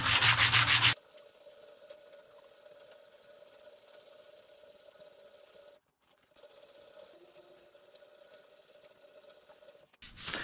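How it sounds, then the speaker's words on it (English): A sanding block worked by hand over a steel auto body dolly during refinishing, giving a steady, close scraping rub that runs continuously with one brief pause, after a louder burst at the start. "Using a sanding block."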